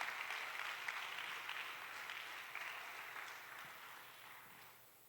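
A church congregation claps during a pastor's sermon, a broad steady wash of applause heard from some distance that slowly fades toward the end, with no voices over it.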